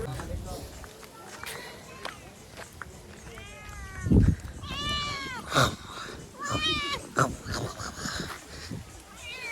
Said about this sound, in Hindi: इंडोनेशिया की बिल्ली से आते ही मुलाकात हुई है